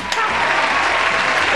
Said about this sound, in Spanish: Ayúdenme a aplaudir.